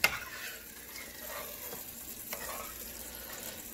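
Baked ziti sauce with Parmesan and parsley sizzles in oil in a pan while it is stirred, giving a steady, moderately close frying hiss broken by a few soft scraping knocks. No one speaks.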